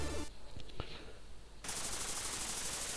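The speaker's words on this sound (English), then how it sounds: "if I hold down the fire button, I can use this rapid fire." Rapid fire from the Commodore 64 game 1943: The Battle of Midway, a brief burst of harsh, noisy electronic shooting cutting in after a short pause, loud and close with no talking.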